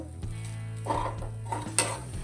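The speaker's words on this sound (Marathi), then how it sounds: "आता हे चांगलं परतून घेऊ" A corn, rice and green chili paste cutlet mixture is sautéed in a pan, with a soft sizzle under a low background hum and a few light scraping stirs.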